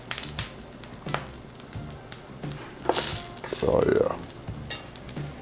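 Plantains fry in a pan with a steady sizzle and occasional stirring clatter. Someone speaks briefly over the cooking.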